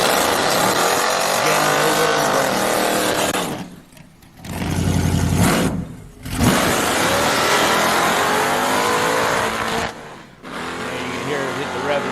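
Race car engine at the drag strip, loud and close, revving hard against the rev limiter with stuttering bursts, cut by two brief drops in power before roaring back up; voices may sit faintly underneath.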